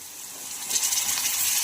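Spices and ingredients fry in a pan for a green tomato curry, a close, steady sizzle that swells slightly toward the end, with no voices.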